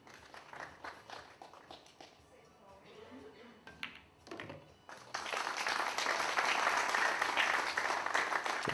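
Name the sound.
audience applause at a pool tournament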